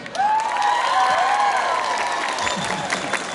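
Audience at a singing contest final claps loudly and steadily for a contestant, with cheering and a tonal voice-like line riding over the crowd noise.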